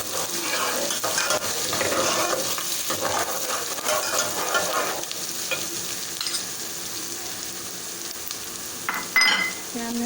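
Garlic fries with a spoon of ginger in oil in a pan for a dhaba-style mash daal, a steady close sizzle with scraping stir strokes throughout and a brief clink near the end.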